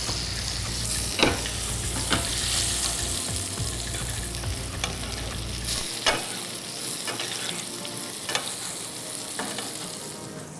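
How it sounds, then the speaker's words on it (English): Paneer searing in a pan over a high flame gives a loud, steady sizzle, with a few sharp clicks from stirring or turning scattered through it. "I'm searing it off on a high flame"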